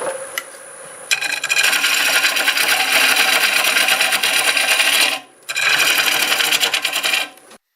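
A wood lathe turning black locust as a tool cuts a recess, giving two sustained bursts of close, loud scraping and rasping, with a brief pause between them.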